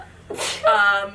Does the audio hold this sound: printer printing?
no